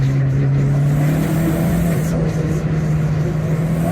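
A Vauxhall Nova GTE with a 2.0 turbo engine accelerates hard on a private road, its steady mid-pitched engine drone loud and close and holding throughout without a break.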